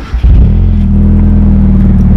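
A manual-transmission car engine cranks briefly and catches, settling into a loud, steady, close idle rumble that fills the rest of the moment without talk.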